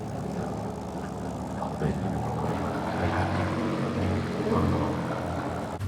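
A Spitfire Mk Vb taxiing in the IL-2 flight simulator game gives a steady, loud propeller engine drone with a low rumbling throb throughout, and no pauses.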